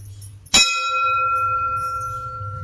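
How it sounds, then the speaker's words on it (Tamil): A single strike on an antique metal bell, around a hundred years old, rings out like a temple bell, with a sharp attack and a clear sustained tone that decays slowly over a low background hum. "கோயில் மணி மாதிரி."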